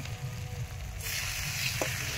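Raw desi chicken goes into a hot kadai of spiced oil by the Ganges riverside at Nabadwip, setting off a steady close sizzle that swells louder partway through, with a faint clink.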